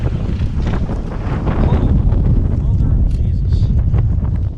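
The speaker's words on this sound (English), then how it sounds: "that wind is just getting stronger and stronger" Strong wind buffeting the microphone on the deck of a bass-fishing boat on a lake, a loud, continuous roar and rumble throughout, with a voice faintly mixed into the gusts.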